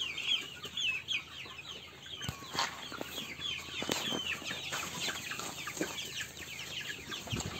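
A crowd of farm chickens clucks and squawks continuously, with overlapping calls from several birds, a few sharp louder cackles and occasional wing flaps, moderately close and without any talk.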